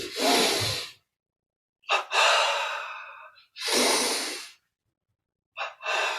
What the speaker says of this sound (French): Bras tendus devant, double inspire